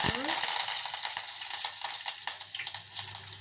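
Dried red chillies, garlic cloves and curry leaves crackle and sizzle in hot oil, a steady dense frying hiss with small pops and a stir or two, fairly close and alone.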